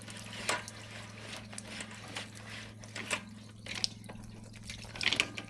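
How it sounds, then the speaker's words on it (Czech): Water draining away through a pipe during drain cleaning, heard as a steady running, gurgling flow with a constant low hum and occasional splashes and knocks, close and continuous, with no talking. "Počkej, odteče ta voda."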